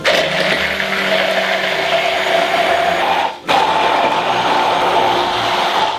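A blender whirs steadily as it mixes mustard and olive oil into a dip for merguez burgers, with a brief dip in the motor noise midway before it resumes at full, close, loud drone.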